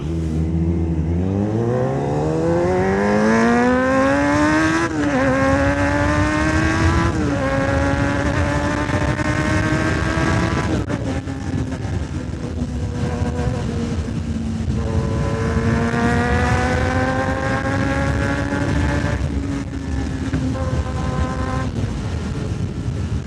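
A superbike engine on a mountain road in Yelagiri, among a Kawasaki ZX10R, Suzuki Hayabusa and Kawasaki Z900, revs hard through rising gear pulls. The loud, close roar climbs steeply, drops at each shift and then climbs again, with no talking.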